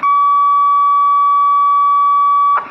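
CB radio signal from a keyed-up Cobra 90 received on a Galaxy DX55HP over dummy loads, a loud steady tone held for about two and a half seconds before cutting off.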